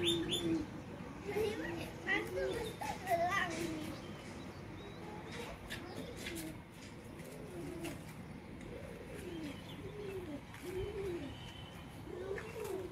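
Pet pigeons coo repeatedly while eating, soft rolling calls close by with a few chirps, and a voice talks at times in the background.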